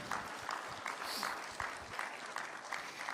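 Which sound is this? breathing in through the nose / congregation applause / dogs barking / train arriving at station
congregation applause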